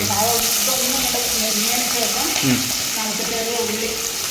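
Dried red chillies, green chillies and curry leaves being sautéed in oil for Kerala ulli theeyal: a loud continuous close sizzle with stirring sounds and a voice talking over it.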